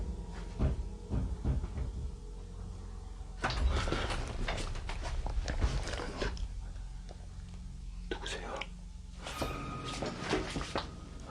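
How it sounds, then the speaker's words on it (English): Someone pounds on a door in a creepy scene: several heavy knocks come in clusters, then the door swings open on its own with a rattling, creaking sweep, all set against a low rumbling background. "Something seems to pound on a door, catching Michael's attention. Then the door suddenly swings open on its own."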